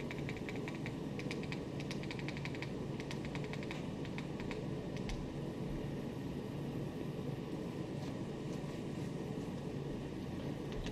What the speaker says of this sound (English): so I'm going to type in The Flash